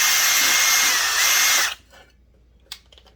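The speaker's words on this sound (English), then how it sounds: "I'm just going to take this drill bit and randomly blow the rest of the guts out" A drill bit bores loudly through the threaded hole of a Husqvarna 372 chainsaw, running steadily for about a second and a half, then stopping abruptly, followed by quiet and a few faint clicks.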